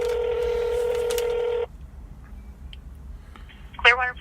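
Telephone keypad dialing an extension on a police department phone line: a loud steady DTMF tone held for over a second, then quiet line hiss, followed by a short chirpy tone burst near the end.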